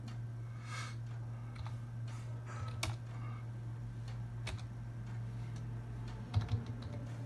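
Fingers tapping on a computer keyboard in short irregular bursts of soft clicks, close up over a steady low electrical hum.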